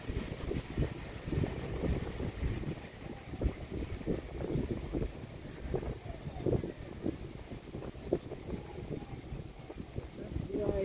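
Wind blows against a small boat on a lotus pond, making a continuous low rumble and buffeting on the microphone with constant gusty fluctuation throughout.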